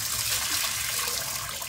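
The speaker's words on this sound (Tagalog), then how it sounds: "Buksan na yung kalan at lalagyan ng tubig." Water poured into a cooking pot on a stove makes a steady, fairly faint rushing splash that runs unbroken throughout, with no voices.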